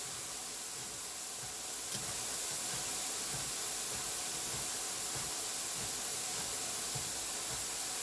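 Mushrooms sizzle in a pan for a bruschetta stack, a steady, fairly quiet hiss that holds unbroken throughout with no voices.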